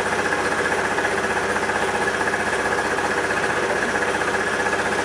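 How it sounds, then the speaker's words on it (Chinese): Scooter engine idling steadily at normal speed after a restart, a continuous close mechanical hum with a fine rapid pulsing throughout, loud and alone with no talk. "然后现在我们再来做一个发车的动作， OK， 它现在的转速已经变正常了，"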